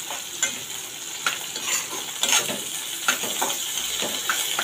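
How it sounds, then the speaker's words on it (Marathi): Chopped garlic sautéing in hot oil for colocasia leaf bhaji: a steady close sizzle broken by repeated scraping stirs of a spatula against the pan. "आता हे परतून घेऊया लसूण।"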